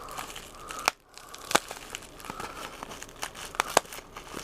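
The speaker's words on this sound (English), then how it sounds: "I'm just cutting through bubble wrap" Bubble wrap crinkles and tears as it is cut open during a toy unboxing. Sharp crackles and snips come in irregular bursts at close range, fairly quiet, with no talking.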